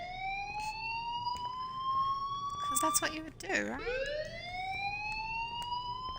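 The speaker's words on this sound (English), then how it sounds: "Suppose the fire alarm is going off, so everyone will be leaving." A fire alarm going off in the video game Life is Strange, a loud, sustained wailing tone that sweeps slowly up and down in pitch; a person talks over it partway through.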